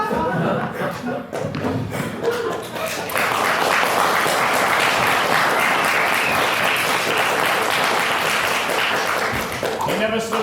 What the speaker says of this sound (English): Oh, how they clapped, they laughed, they cheered!